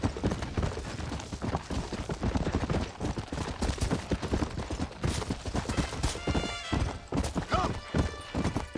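Horse hooves clip-clop steadily and quickly through the Red Dead Redemption video game, a continuous close gallop with a brief neigh and faint distant gunfire late on.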